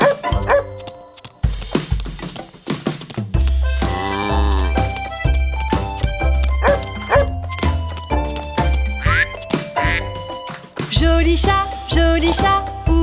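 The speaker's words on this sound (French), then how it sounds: "J'ai vu un chien me dire ouf." Cartoon-style dog barks sounding in a French children's nursery rhyme, short yaps and woofs recurring among bright sung music and instrumental accompaniment, with no separate spoken talk.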